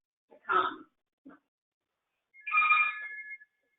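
A telephone rings indoors in two short electronic bursts, the first around half a second in and a longer one near the end, with a brief softer blip between them and silence around them.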